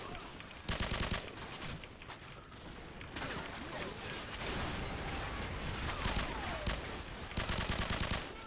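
Heavy gunfire in a game firefight, dense rapid bursts of shots rattling continuously for several seconds, with sharp machine-gun volleys at the start and end and distant shots in between.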